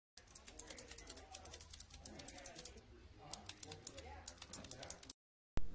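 Someone types quickly on a Dierya DK61E gaming keyboard fitted with blue optical switches, producing loud, sharp, clicky keystrokes in fast, steady bursts up close. The typing stops abruptly near the end.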